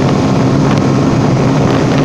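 A Geon Issen 300 motorcycle runs at speed in fifth gear, a loud, steady roar of engine and rushing wind with no break.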